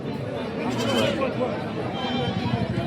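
Goats bleat amid a steady crowd of voices and farmyard noise at the Sangola goat market, the calls loud and close.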